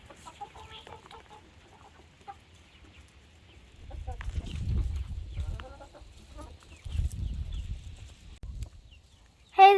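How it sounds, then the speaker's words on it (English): Chickens cluck and scratch around a pumpkin placed in their pen, with soft rustling pecks coming in two bursts and a sharp close cluck at the end, and no talk over them. "There they are pecking."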